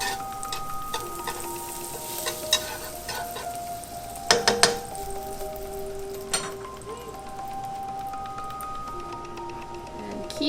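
French toast frying in butter in a pan, a steady crackling sizzle with scattered pops and a few sharp clinks of a utensil against the pan.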